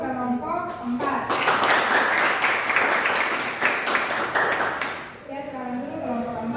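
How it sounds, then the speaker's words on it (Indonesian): A classroom full of students bursts into applause for group 4, a few seconds of dense, steady clapping between stretches of a voice talking before and after. "kita berikan aplaus untuk kelompok 4"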